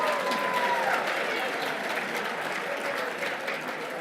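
An indoor awards event audience applauds for guests, with steady, dense clapping and some cheering throughout, fairly loud and continuous, slowly fading slightly toward the end.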